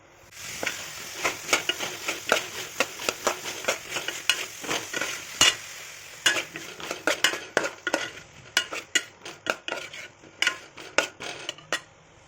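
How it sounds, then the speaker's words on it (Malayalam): A spoon stirs coriander, chili and turmeric powder in a pan for a Kerala-style curry, making a close, uneven run of scrapes and metallic clinks over a faint sizzle, with no voices. "1 ടേബിൾ സ്പൂൺ മല്ലിപ്പൊടി, 2 ടേബിൾ സ്പൂൺ മുളക് പൊടി, 1/4 ടീസ്പൂൺ മഞ്ഞൾപ്പൊടി, ഇത്രയും സാധനങ്ങൾ ചേർത്ത് നന്നായിട്ട് 1 മിനിറ്റ് ഒന്ന് വഴറ്റണം"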